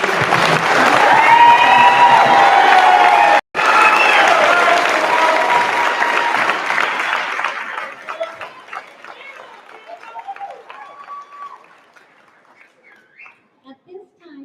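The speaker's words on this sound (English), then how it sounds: "Let's give these hardworking seniors one more round of applause." A graduation ceremony crowd at a high school commencement breaks into loud applause and cheering with whistles, sustained for several seconds before thinning out to scattered claps and fading away.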